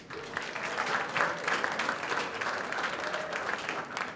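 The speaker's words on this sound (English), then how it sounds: "Round of applause for Momi." Steady applause from an audience at a Startup Village tech pitch night at Atlanta Tech Village, sustained and even throughout, filling the room without any talk over it.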